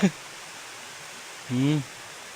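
A mountain stream on Namunukula flows with a steady, soft rushing wash that continues without a break, while someone speaks briefly over it.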